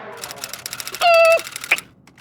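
A person mimics a typewriter with quick rhythmic clacking mouth noises and a sustained tonal ding in the middle, close and fairly loud, with no ordinary speech.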